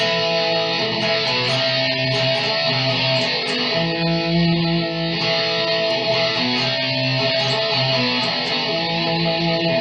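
An electric guitar tuned to drop D plays a loud, distorted power-chord riff, sustained and driving throughout with no pauses.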